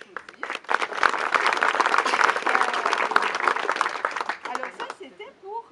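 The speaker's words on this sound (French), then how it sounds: "on peut l'applaudir" Audience applause at a French-speaking gathering, a dense steady burst of clapping lasting about five seconds before tapering off, with voices mixed in underneath.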